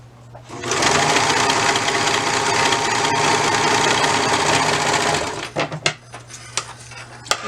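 A sewing machine stitches the back seam of a pair of tights, running loud and steady for about five seconds before stopping, followed by a few sharp handling clicks.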